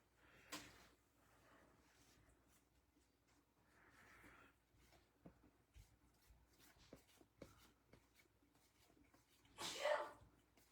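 A person sneezes once, a short sharp burst near the end of an otherwise quiet room with faint background noise and scattered small knocks.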